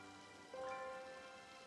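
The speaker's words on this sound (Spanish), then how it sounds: "La música, la ambientación, las gotitas de la lluvia" Soft, steady rain patter in the Zelda: Ocarina of Time 3D video game, a quiet continuous wash of droplets with faint musical tones rising briefly above it, no talking.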